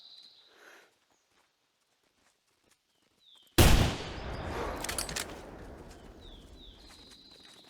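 A single loud rifle shot cracks out at a bighorn in theHunter Classic, sudden and near after a near-silent wait, then rolls away in a long echoing tail through open terrain with faint bird chirps.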